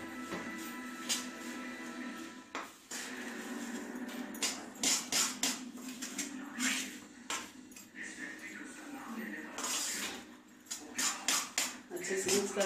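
Cooled sesame seeds being stirred into melted jaggery for til gud laddu, with irregular scraping and clinking of a spoon against the pan, close and fairly quiet, in short bursts.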